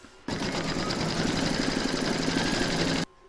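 An embroidery machine stitches round three of an in-the-hoop stacked snowman, running in a steady, fast mechanical whir for about three seconds and stopping abruptly.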